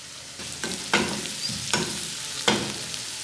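Spring onions fry in a pan for a chilli paneer curry, a steady sizzle broken by three or four sharp scraping stirs at roughly even intervals, close and moderately loud with no talking.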